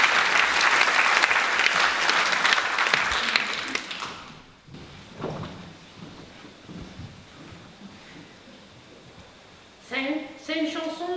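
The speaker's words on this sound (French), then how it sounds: "Eh bien, on peut applaudir John" Audience applauding a singer at a theatre season presentation, loud sustained clapping for about four seconds that fades into quieter room noise, followed by a person talking near the end.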